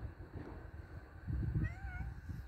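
A stray cat meows faintly outdoors on a freezing winter walk at minus six degrees: a short, wavering cry near the end, over wind-like rumble and rustling.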